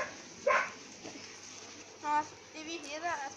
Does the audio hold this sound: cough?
no